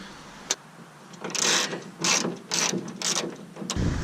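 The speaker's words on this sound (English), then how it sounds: "You have 2 bolts on this side, and then you have 2 on that side, which are 10 millimeter." Ratchet wrench loosening 10 millimeter hood bolts on a car, a sharp click followed by four bursts of rapid ratcheting, close and fairly loud with no talk.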